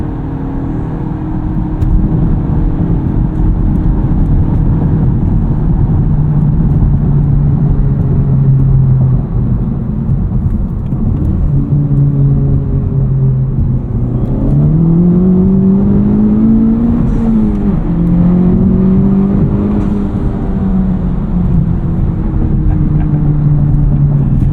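Cabin view of a 2023 FL5 Honda Civic Type R with a Cobb Redline carbon fiber intake driving in R mode, a steady loud engine drone that rises and falls with throttle and gear changes, over road rumble.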